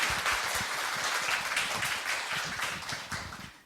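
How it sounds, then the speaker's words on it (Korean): An audience at a political talk concert applauds a civic group's secretary-general; thick, continuous clapping fills the room at full strength, then thins slightly toward the close. "박근영 사무처장님께 여러분 큰 박수 한번."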